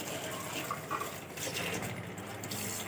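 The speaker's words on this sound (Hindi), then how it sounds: "तो ये सारा जो है अभी मैं इसके ऊपर थोड़ा सा पानी डाल देती हूँ।" Water is poured over kitchen utensils and pots during a deep kitchen clean, a steady, continuous gush and splash that stays close and fairly quiet for the whole stretch with no talking.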